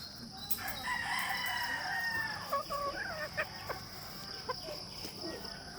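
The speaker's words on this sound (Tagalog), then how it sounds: "Now showing sweaters pollets." Sweater pullets, a line of gamefowl chickens, cluck and crow nearby, with a drawn-out crow and scattered short clucks over a quiet farmyard background.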